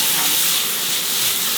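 White wine splashed into a hot frying pan of shrimp, giving a steady, loud hissing sizzle of steam with no talk.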